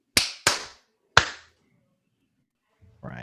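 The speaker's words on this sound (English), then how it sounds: "I'll just count 3, 2, 1, and then we'll all just clap" Three sharp, loud group claps in sync for a live JS Party show, two in quick succession and a third after a pause, each snapping and decaying cleanly in a quiet room, with a faint voice starting at the end.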